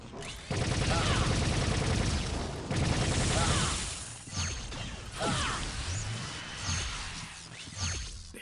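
Scavenger rifle fire in the video game Star Trek Voyager Elite Force, dense rapid bursts that start and stop, with whooshing energy shots, clattering mechanisms and a voice talking between volleys.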